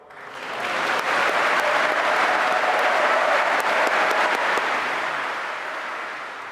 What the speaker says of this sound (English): rapturous applause there for President Zelensky